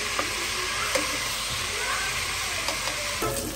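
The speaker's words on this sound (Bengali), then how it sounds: "রোস্টের তেলের মধ্যে আবার ডিম ভাজতেছি" Eggs fry in oil left over from cooking roast chicken in a home kitchen, giving a constant close sizzle broken by occasional soft stirring scrapes and no speech.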